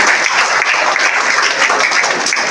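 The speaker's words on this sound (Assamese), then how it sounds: "একেলগে সকলোৱে হাত চাপৰি" Audience applause at an award ceremony in Tezpur honouring a young snake rescuer, a steady loud wash of many hands clapping for the full stretch with no talk.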